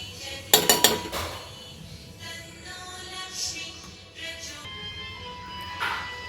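A metal spoon clinks sharply against a pan a few times as ghee goes in to start sanja (semolina porridge) on a home stove. Softer scrapes and taps follow, with a faint voice in the background.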